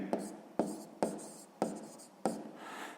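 Five quick pen strokes scratch across paper during a sixth-grade maths exercise, each a sharp onset trailing off, close and quiet.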